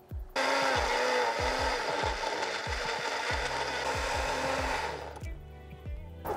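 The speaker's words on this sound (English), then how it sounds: "So in the blender is gonna be the garlic, the onion, the tomatoes, and the serranos." A blender whirs loudly and steadily for about five seconds as it purees garlic, onion, tomatoes and serrano peppers, then winds down, with a few knocks and clatters throughout.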